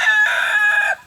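A single loud, close rooster crow in a chicken flock, one strong drawn-out cock-a-doodle-doo lasting about a second, heard alone.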